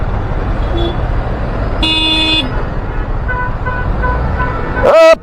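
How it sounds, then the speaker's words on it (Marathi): Honking horns in a Mumbai traffic jam at the Bhendi signal, heard from a motorbike: several tonal horn blasts of different pitches over a steady roar of idling engines, with one loud close honk at the end. "भेंडी सिग्नलच्या तिथे जाम लागलं आहे फुल"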